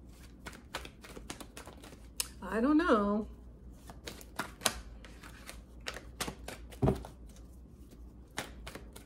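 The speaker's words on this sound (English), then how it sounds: "Let's shuffle our clarifying deck a little bit." Tarot cards are shuffled in quick rapid riffles and taps, with a person briefly speaking and a short sung-like vocal in the middle.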